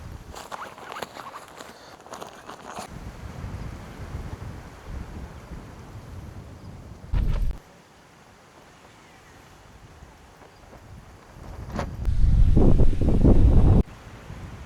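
Gusty wind pounds a tent pitched at a solo motorcycle campsite, loud rushing blasts and flapping fabric coming in uneven surges that drop to a quieter lull in the middle.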